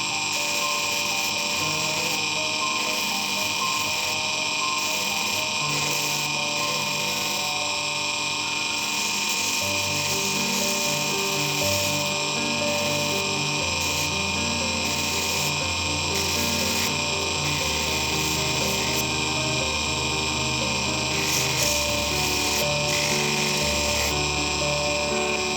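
A rotary tool sands a brass ring for a flower-motif ring set with a pearl. It gives a steady, loud, high-pitched grinding whine with small flutters, running alone throughout.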